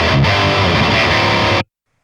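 A short burst of loud, crunchy distorted electric guitar through an impulse response blending a Shure SM57 and a Sennheiser MD 421 Compact microphone rings out steadily before stopping suddenly.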